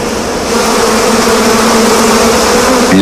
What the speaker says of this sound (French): Les abeilles du Népal sont les plus grandes de la planète.